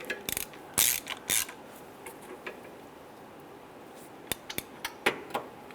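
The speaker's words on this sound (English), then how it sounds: "we want to now snug down our 4 outside bolts." Ratchet wrench snugging down the exhaust manifold bolts on a 2005-2010 Chrysler 300: quick clusters of close metallic ratcheting clicks, then a pause, then a few more scattered clicks, with no talking.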